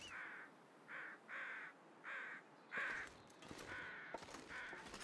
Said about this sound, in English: I think we got birds